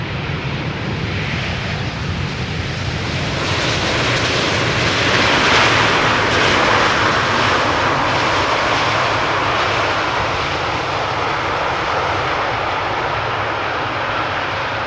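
A jet airliner landing on Schiphol's Polderbaan runway in Amsterdam on a hot sunny day, its engines a loud, steady broadband roar that swells midway and holds, with no voices.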